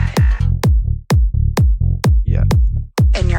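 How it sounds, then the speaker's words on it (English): Tech house kick drum thumping steadily, roughly every half second, loud and up front over a sidechained funky bass line and bright percussion, with no voices. "The kick sounds like this."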